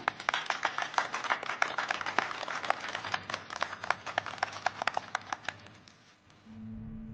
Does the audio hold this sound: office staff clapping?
yes